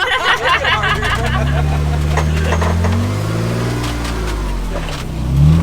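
An off-road truck on 32-inch Milestar Patagonia Black Label tires climbs an obstacle, its engine revving and labouring in rising and falling waves and swelling loudest at the end, with people talking over it.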